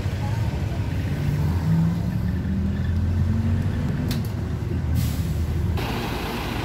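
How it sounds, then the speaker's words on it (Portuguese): A tourist bus passing on a street in Seville, a loud, steady diesel engine drone with low rumble close by, a brief hiss of air brakes near the end, amid street noise. "esse é um outro ônibus que faz a linha turística também"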